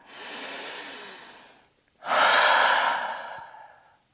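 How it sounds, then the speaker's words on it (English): Two long breaths pushed out through the mouth during a yoga flow, close and clear, the first lasting about a second and a half and the second stronger, each fading out gradually. "Exhaling through the mouth, that's it, yes. One more breath like that."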